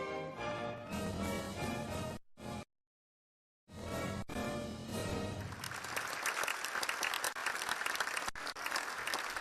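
Enthusiastic audience applause following a ballet performance of Sleeping Beauty, loud dense clapping that breaks off briefly into silence, then resumes and swells into steady, sustained ovation.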